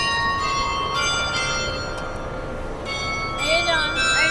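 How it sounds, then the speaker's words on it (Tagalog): A church bell rings for mass at night in Singapore city, sustained metallic tones with long ringing overtones repeating over steady street noise, while people talk nearby. "Ayan yung bell"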